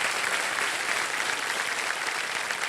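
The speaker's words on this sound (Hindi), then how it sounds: "बहुत जोर से ताली बजा" Loud, dense applause from a studio audience on a televised quiz game show, a steady wall of clapping filling the whole stretch without pause.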